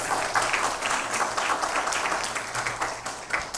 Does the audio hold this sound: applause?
yes